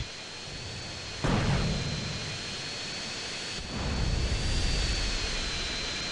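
A fighter jet flies in GTA San Andreas, giving a steady, loud, broadband engine roar that surges twice as the thrust swells, with a high whine running through it.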